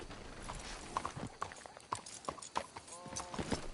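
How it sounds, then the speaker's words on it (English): Horse hooves clip-clop in the Red Dead Redemption 2 video game, a steady walking rhythm of sharp, close hoof strikes alongside faint speech and ambient game sounds. "Let's hitch the horses up ahead."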